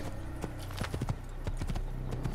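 Hooves clip-clop in a steady trotting rhythm as a horse is ridden in the first Assassin's Creed video game, crisp and close over a low game ambience.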